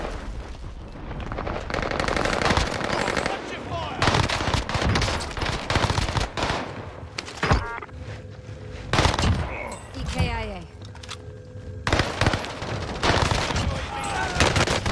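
Sustained automatic gunfire from an LMG or minigun in Call of Duty Warzone, rapid bursts rattling through a busy firefight with other shots and effects, under players' talk.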